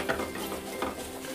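Spoon stirring fried masala and desi ghee in a pan for a bottle gourd and chana dal dish, with soft scraping and a light sizzle, close and steady with two small accented strokes.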